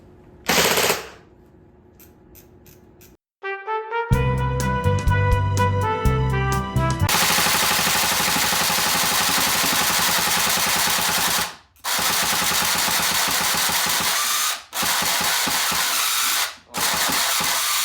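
Cyma Sport CQB electric airsoft gun firing long full-auto bursts, a loud continuous buzzing rattle of motor and gears with a few brief pauses, preceded by short mechanical clicks.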